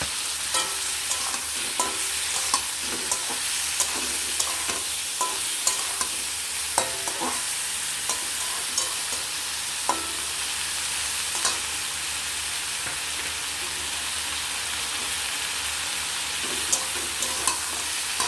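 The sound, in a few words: stir-frying fried potato and eggplant with turmeric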